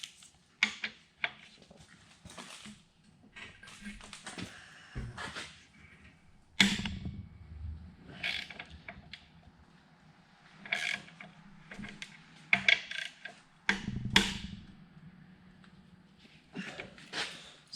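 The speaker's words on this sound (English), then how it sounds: "Alright, so I'm going to take out these main caps. They are 18 millimeter." A hand ratchet loosens 18 mm main cap bolts on a seized 5.9 Cummins engine from a 2003 Dodge 3500, giving scattered bursts of clicking and metallic clunks with pauses between pulls.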